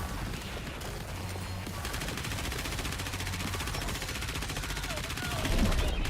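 Alice's ultimate in a video game lets loose extremely rapid, evenly spaced gunfire in a continuous machine-gun stream, with a voice talking over it.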